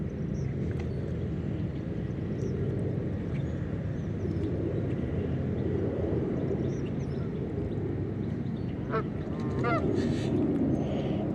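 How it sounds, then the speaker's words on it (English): Geese honk in the distance over a constant low rumble, with a cluster of calls near the end; no talking. "I see some of our resident geese are coming through."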